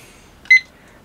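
A single short electronic beep from the timer on an ultraviolet exposure unit, clear and close in a quiet room, with a faint hiss before and after.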